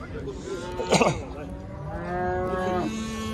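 Cattle low at the Karakol livestock market, a loud drawn-out moo near the start and another long moo after, amid crowd murmur and a voice.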